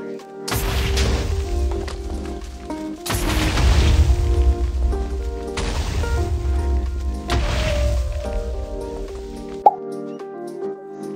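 A baby creeper, a smaller and faster creeper variant in a Minecraft 1.20.1 mod, sets off three loud booming explosions a few seconds apart, each with a deep rumble. Steady background music plays underneath.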